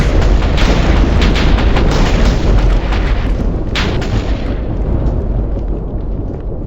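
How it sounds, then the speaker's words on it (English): A nuclear bomb detonating in the Minecraft Rival Rebels mod, a loud sustained roaring boom that fills the whole stretch and eases slightly toward the end, with no speech. "It's getting big. And very well detailed mushroom clouds."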